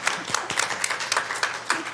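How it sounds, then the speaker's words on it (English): Attendees at a public library board meeting clap for a staff member, a brief burst of scattered, fairly close handclaps with uneven rhythm over a couple of seconds. "A round of applause for David."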